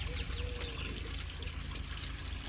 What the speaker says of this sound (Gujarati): પાણી પાઈ દઈએ હવે ગાયને.